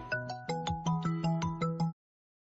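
A phone rings late at night inside a family home, its melodic electronic tone pulsing in quick, even bursts before cutting off abruptly.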